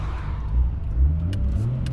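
A Nissan R32 Skyline GT-R swinging through a slow U-turn, its engine a low close rumble that rises briefly as it pulls around, heard from inside the car with no talking.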